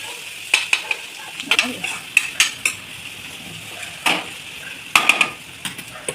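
Masala with green chillies being stirred in a frying pan, with sharp spoon scrapes and clinks against the metal over a soft sizzle, in irregular bursts.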